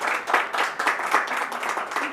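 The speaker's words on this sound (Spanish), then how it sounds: "vamos a darle un fuerte aplauso a Javier Fernández" Applause for a guest, a short burst of many hands clapping in a dense, steady patter that holds level for about two seconds, no words spoken over it.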